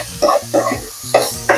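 Onion sautéing with salt in a pan, with repeated bursts of stirring and scraping over a soft sizzle, close and fairly loud.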